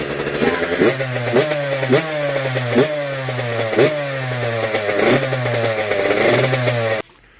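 A Yamaha YZ65 two-stroke dirt bike engine, just rebuilt with a new top end, runs loud and close, revving up and dropping back repeatedly in a steady rhythm before cutting off abruptly.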